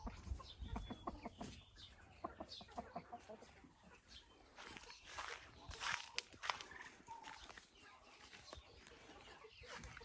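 Chickens cluck and chatter close by in a busy, continuous stream of short calls, with occasional louder squawks over a noisy background.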